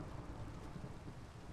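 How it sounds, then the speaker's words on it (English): Steady rain and rumbling thunder in the video game Otherlands, a continuous dense wash of falling rain with low thunder beneath, heard alone with no talking. "Since it's raining."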